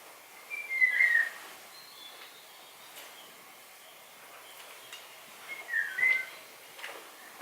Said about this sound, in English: this is like a couple calls of an Oriole